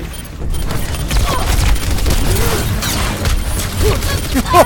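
Gunfire in a video game, dense rattling bursts and mechanical clatter sustained loudly across the whole stretch with a few sharper impacts near the end.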